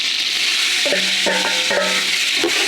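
Ginger, garlic paste and green chilies fry in hot oil while being stirred, giving a steady close sizzle with a few scraping spoon strokes and no talking.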